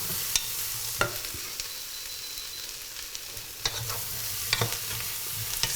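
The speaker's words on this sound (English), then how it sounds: "Stir it all through." Spiced cauliflower is stirred in a hot pot with a steady background sizzle, while scattered scrapes and knocks of the utensil against the pot sound close and moderately loud.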